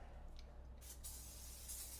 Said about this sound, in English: so we're gonna use our spray